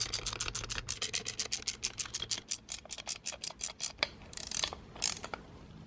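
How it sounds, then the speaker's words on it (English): Torx screws being driven back into a BMW E53 X5 / E83 X3 transfer case actuator motor housing: a close, rapid series of sharp ratcheting clicks, then a pause and a few scattered louder clicks and scrapes, with no talking. "Reinstall our 4 Torx screws."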